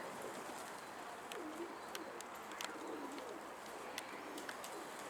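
Soft cooing from a pigeon or dove sounds over a steady background hiss, accompanied by scattered faint chirps and clicks.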